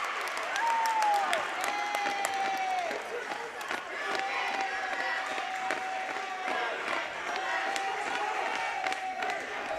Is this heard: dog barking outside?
no